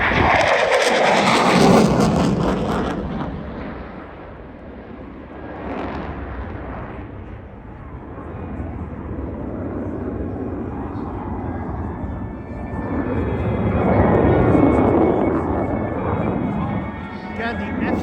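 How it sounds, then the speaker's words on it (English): A Polish Air Force F-16 fighter jet roars past at an airshow, a loud sustained jet rumble that swells, fades and surges again through a horizontal turn, with a commentator speaking over it throughout. "here's the F-16 from Poland"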